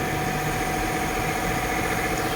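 A Kia Soul or Hyundai Accent engine runs steadily at idle after a leaking in-tank fuel pump was fixed, a continuous even hum and vibration with no talking.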